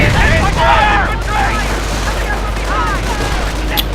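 A Company of Heroes battle carries loud gunfire and crackling fusillades, with bursts of rifle and machine-gun fire overlapping continuously and a commentator talking over the action.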